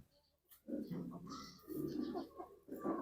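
Pigeons coo nearby in soft, low, rounded phrases, three short bouts in quick succession, quiet and close with no talking.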